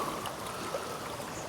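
Floodwater about six inches deep on a flooded lane near the River Soar, rushing steadily around a person's wellington boots, a continuous close wash with no pauses.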